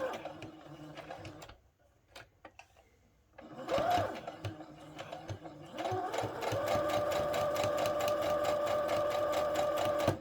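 A sewing machine stitches around a satin-lined bonnet, starting with short hesitant bursts, then settling into a long, steady, close rattle of rapid needle strokes.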